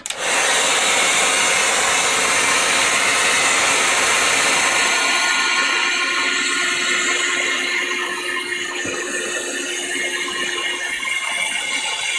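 A dryer blows a constant loud, whooshing rush of air with a faint motor whine as it dries Stabilo All pencil artwork, running nonstop from start to finish.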